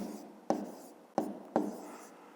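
Pen or pencil writing numbers by hand on paper during a math exercise, three scratchy strokes that each start sharply and fade, close and quiet, with no talking.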